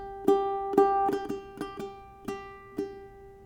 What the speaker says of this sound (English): our intro is just going to be a drone of the fourth string